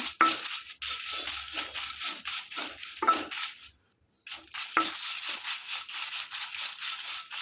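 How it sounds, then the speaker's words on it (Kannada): About ten dried red chillies dry roasting in a pan, tossed and scraped in loud dry rattling bursts that carry on steadily, pause briefly, then resume. "ಇವಾಗ ನಾನು ಒಂದು ಹತ್ತು ಮೆಣಸು ತಗೊಂಡಿದ್ದೀನಿ ಅದನ್ನು ಡ್ರೈ ರೋಸ್ಟ್ ಫ್ರೈ ಮಾಡುವ ಈ ಥರ"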